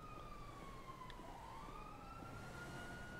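A police siren in the video game GTA 5 wails with a sliding, rising-and-falling tone, faint and distant over a steady background rumble, with no talk over it.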